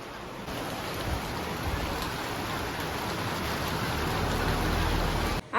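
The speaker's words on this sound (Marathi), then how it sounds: "आमची आता मस्त पाऊस चालू झाला आहे" Heavy rain, the first rain of summer, falls in a constant roaring hiss, growing slightly louder before cutting off at the end.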